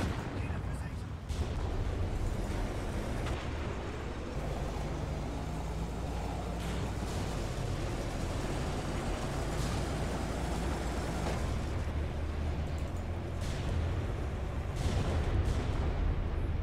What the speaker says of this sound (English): A lot of bombardment.